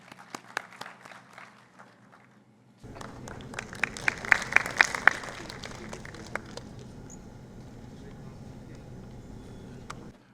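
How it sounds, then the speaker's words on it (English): Audience applause at a conference as a speaker is welcomed to the stage, a steady patter of clapping of moderate loudness with a few sharper claps standing out, following a stretch of quieter scattered noise. "So with big round of applause, please join us"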